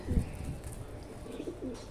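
Pigeons coo softly in low, rolling murmurs, repeating at a moderate distance with faint background noise.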